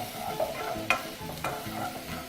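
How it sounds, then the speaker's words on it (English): Tomatoes for roasted tomato soup stirred in a pan with a wooden ladle: a soft, steady sizzle with a few scraping strokes, fairly quiet. "Now it's time to get my wooden ladle and then just mix this up."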